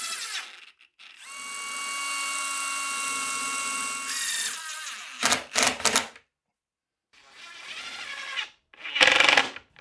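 A power drill drives screws into cleats on a wooden cabinet panel. There is a long steady whine of about three seconds, then shorter bursts with pauses between them, close and loud, with no talking.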